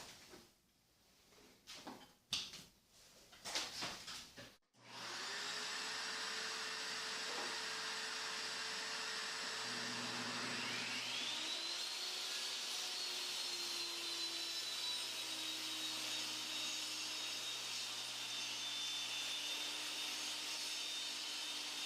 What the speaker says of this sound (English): I'm going to find the center line and then rip this into two pieces